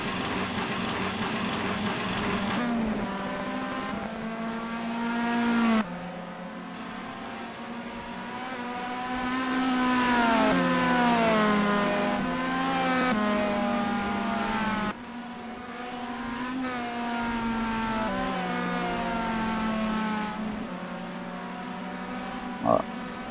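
Race cars in a French rally-cross style meeting at Albi circuit roar past with rising and falling engine whines, revving through corners and sliding under braking, several passes over twenty-odd seconds at mid distance.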